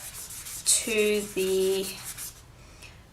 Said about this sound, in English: So I'll just be sanding from the 400 grit all the way up